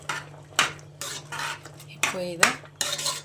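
A spoon stirs peas masala with chopped onion, green chilli and coriander in a pan, making intermittent clinks and scrapes against the metal, with a few brief spoken words.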